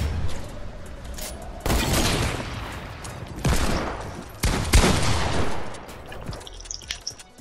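Rifle fire in the video game Fortnite comes in several separate loud bursts of rapid shots, with short gaps between them.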